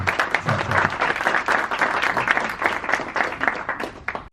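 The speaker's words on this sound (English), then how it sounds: "Give a round of applause for thank you." A conference audience at a partnership announcement breaks into sustained, fairly loud applause, many hands clapping evenly before it trails off at the end.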